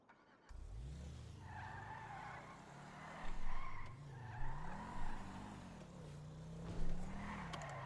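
In GTA FiveM roleplay, a car skids with squealing tires and revving engine surges, its pitch rising and falling over several seconds before running into a player character.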